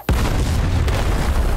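A grenade explosion in a video game after the grenade is dropped into a hole: a sudden, very loud boom that rolls straight into a dense, sustained rumble filling the rest of the moment.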